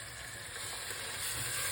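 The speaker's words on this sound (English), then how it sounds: "now I'm sauteing my onions and garlic" Onions and garlic sauté in a pan for spaghetti sauce, a steady close hiss and sizzle that swells slightly toward the end.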